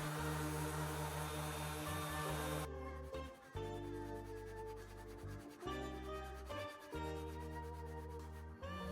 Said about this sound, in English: I also used a foam attachment with my orbital sander